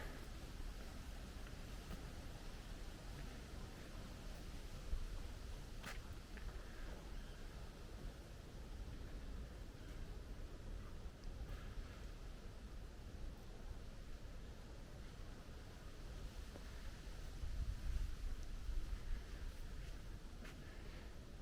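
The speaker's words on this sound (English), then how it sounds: "It's a little chilly. Got some wind." Wind blows steadily outdoors on a chilly, quiet afternoon in Hirakata, Osaka, making a soft broadband rush with gentle gusts that swell near the end.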